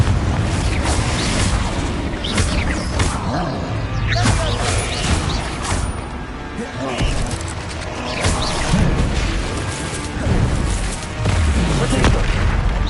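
Repeated Confringo blasting-spell explosions in the video game Hogwarts Legacy, dense booming crashes and bursts one after another over a constant loud combat din, with a voice shouting the spell names.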